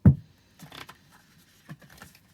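Soft, scattered taps and brief slaps of tarot cards being handled and shuffled, starting with a thump and then a few faint clicks, close and quiet.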